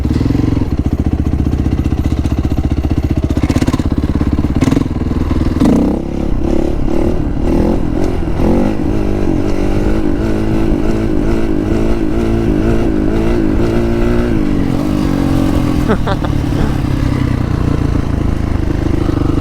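A motorcycle engine roars loud and steady through a long wheelie, holding a high, strained pitch with slight rises and falls and a rattling undertone, close and continuous, with no voices.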